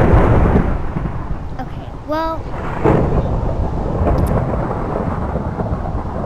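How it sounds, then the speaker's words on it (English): Loud thunderstorm thunder in the video game Minecraft, a continuous broad rumbling roar that fills the whole clip, with a brief whistling tone in the middle and a voice speaking faintly under it. "Oh my god, guys, there's a thunderstorm happening."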